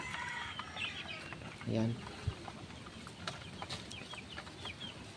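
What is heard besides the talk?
chicks and hen clucking at feeder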